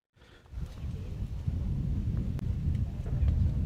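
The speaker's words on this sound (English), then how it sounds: "We got some wind now." Gusting wind blows across an outdoor lawn bowls green during a women's pairs provincial final, a steady low rumble buffeting the microphone that swells after the first half second and holds loud and close throughout.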